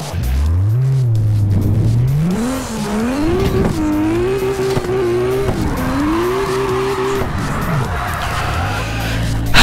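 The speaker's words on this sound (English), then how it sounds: "Can we just please get a good drift in?" Drifting car in the CarX Drift Racing game, engine note sweeping up and down with sustained tire squeal and skidding throughout, loud and continuous.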